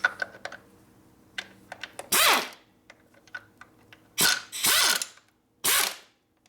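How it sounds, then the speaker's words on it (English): Ratcheting clicks and short metallic bursts while a nut is fitted to the top end of a 1980 Harley-Davidson shovelhead 92ci stroker engine; scattered light ticks between three louder, close ratchet runs. "Okay, now we're going to put the nut on this."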